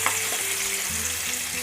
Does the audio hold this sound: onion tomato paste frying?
yes